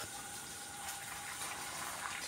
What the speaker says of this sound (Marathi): आता इकडे लिंबूमध्ये आले पाणी टाकत टाकत.